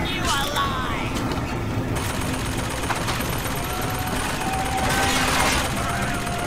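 Gunfire crackles in a Bioshock Infinite firefight, a busy burst of shots and mechanical clatter over a loud, dense game soundscape, with a player talking over it.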